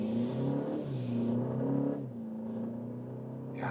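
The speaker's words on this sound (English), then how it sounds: "Yeah, nice acceleration onto the motorway, or just normal road here" BMW M235 accelerating onto a motorway, its engine note climbing through gears with brief dips at shifts, a steady moderately loud rising drone with short breathy bursts, heard from inside without talking.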